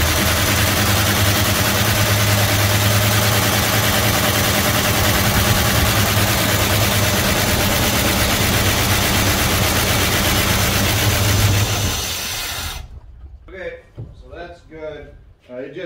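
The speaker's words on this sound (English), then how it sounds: "So we're gonna try to fire up again here." A 1971 Dodge Coronet police car engine, restarted after sitting for 30 years, runs loud and close with a steady low idle for about twelve seconds before cutting out, followed by someone speaking.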